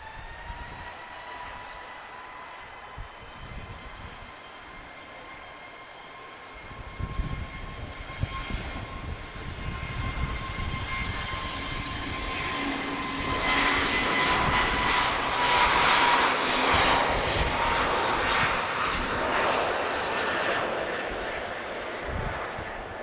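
A Royal Air Maroc Embraer jet at Lisbon airport, its engine whine low and distant at first, then growing into a loud, rushing roar as it passes closer before easing off slightly, with a faint voice early on.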